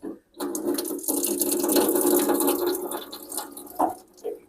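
Tap water runs steadily at a small home bar sink, a continuous close splashing flow that starts after a brief pause and tapers off near the end with a few scattered splashes.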